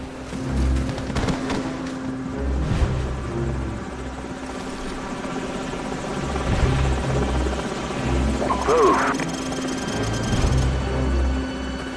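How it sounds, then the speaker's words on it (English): Enemy helicopter in Call of Duty 4: Modern Warfare, a steady rotor thump and engine drone running throughout with a constant mid hum, joined by scattered combat noise and brief bursts near the end. "Enemy helicopters."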